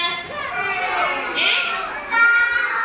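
Preschool children in a kindergarten class imitating the cry of baby chicks, their high voices calling together in rising and falling bursts close by.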